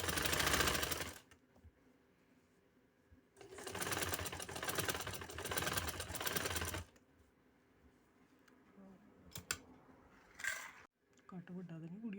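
A sewing machine stitches a fabric neckline of a kameez, running in two long bursts with a pause between, followed by a few brief taps and someone speaking quietly near the end.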